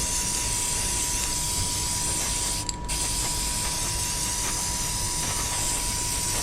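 A steady, loud hiss of green spray paint from a can runs continuously, with a brief rattling break partway through.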